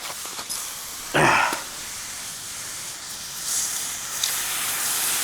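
Hot metal from a bicycle padlock or lock fastener hisses as it is cooled, with a sharp, loud burst of steam-like sizzle followed by a softer, sustained hiss with brief flare-ups.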